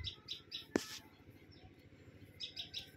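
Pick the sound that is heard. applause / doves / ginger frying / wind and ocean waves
doves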